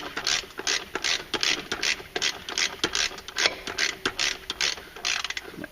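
A hand ratchet tightening a clutch bolt on a 2014-15 Polaris Ranger 900, rapid close clicking in steady back-and-forth strokes, each stroke a quick burst of pawl ticks.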